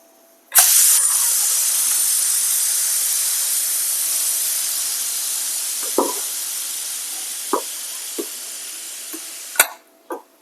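Pressure cooker holding mutton curry vents a sudden loud burst of steam as its lid is released, hissing steadily and slowly fading, followed by a few sharp metal knocks and clinks at the end.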